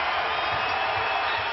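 A college basketball arena crowd in Omaha, with Creighton hosting Oklahoma, gives off a steady, dense roar of cheering that fills the short moment without a break.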